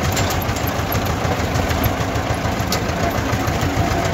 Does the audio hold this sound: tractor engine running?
yes